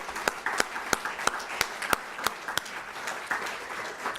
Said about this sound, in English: I want to salute you with a round of applause for a job well done.